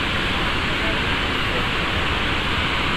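Water roaring through seven opened gates of the Srisailam dam, a loud, steady broadband rush that fills the whole stretch without letup.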